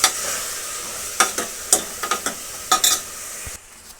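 Tempering spices sizzling and frying in a pan while making bisi bele bath, a steady hiss with several sharp crackles and pops and stirring, then fading quieter near the end; no talking.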